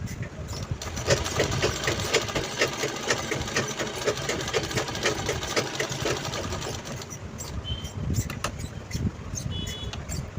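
A sewing machine stitches cloth for a small mobile phone pouch, running in a fast steady mechanical whir with rapid needle ticks for about seven seconds before stopping, followed by a few quieter clicks and handling noises.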